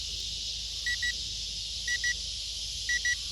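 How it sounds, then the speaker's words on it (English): Low battery warning from a VEVOR RC plane: three pairs of short, moderately loud double beeps spaced about a second apart over steady motor whine outdoors. "Battery's running dead. That's what this beeping's about."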